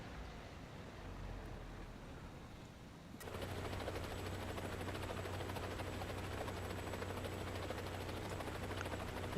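Helicopter rotor in an online shooter video game: a steady, loud mechanical drone with throbbing low thump that starts abruptly after a quieter stretch of ambient game noise and holds continuously to the end.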